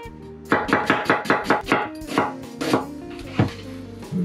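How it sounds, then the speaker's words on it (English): A knife slicing an onion on a cutting board, a quick regular run of about nine sharp chops followed by a few slower, scattered cuts, close and clear. "right now it's time to slice my onion"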